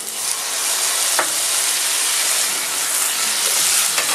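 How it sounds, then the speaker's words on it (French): Thinly sliced beef with green peppercorns flambéing in a hot pan, a loud, steady roaring sizzle and hiss with a couple of sharp clinks partway through, no voices. "Maintenant, on attaque le flambage."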